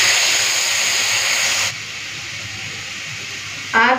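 Water poured into a hot pan of spices, Kashmiri red chilli powder, turmeric and mustard paste hisses loudly in a broad steaming sizzle, then abruptly drops to a faint simmer before a brief clatter.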